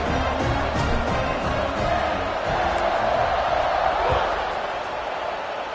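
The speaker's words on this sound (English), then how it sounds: "this crowd is buzzing after that last score" Stadium crowd in the college football video game NCAA Dynasty 26, a steady loud murmuring roar that fills the whole stretch without pause, with a game commentator talking over it.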